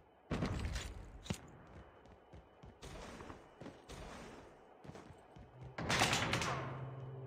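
Gunfire in Call of Duty Mobile, with an AK-47 in the fight: a handful of punchy bursts and single shots spread through the stretch, moderately loud, ending in a heavier close volley.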